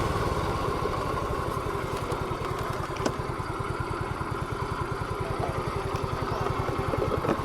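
Rented motorcycle engine running steadily while riding on a trip in Pangasinan, a continuous rapid low putter with faint rattle, close and moderately loud, no talk over it.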